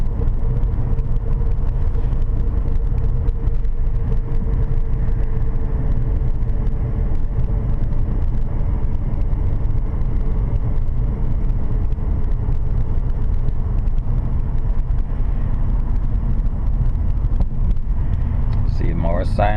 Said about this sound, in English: I'm driving at 40 kilometers an hour.